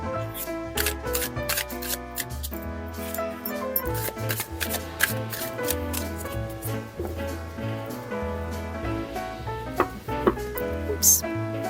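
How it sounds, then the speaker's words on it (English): A 1928 Steamboat Arcana tarot deck is shuffled, with crisp riffling card bursts repeating under steady background music. "This shuffles like a dream."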